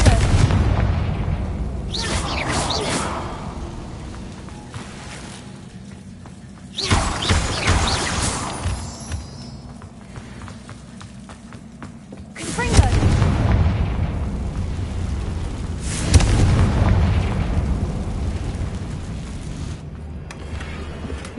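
Bombarda spell explosions in the game Hogwarts Legacy, four heavy booming blasts spaced a few seconds apart, each with a rumbling tail, and a voice calling out spells.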